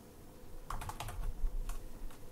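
Short burst of typing on a computer keyboard, a handful of close, crisp key clicks over a low background hum, with no voices.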